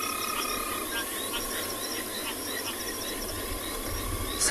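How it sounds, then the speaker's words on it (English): Frogs croak loudly at sunset on the savanna in a dense, continuous chorus with rhythmic pulsing calls and insect-like trills, no voices over it. "The frogs are very loud right now."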